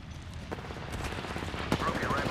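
Gunfire in the Apex Legends video game, a few sharp distinct shots sounding over busy game audio, with one louder crack near the end.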